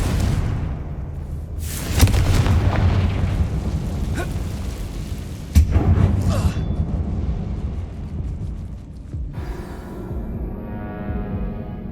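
Confringo spell blasts in the Hogwarts Legacy video game, two loud booming explosions about three and a half seconds apart, each followed by rumbling, crackling debris over a dense low background.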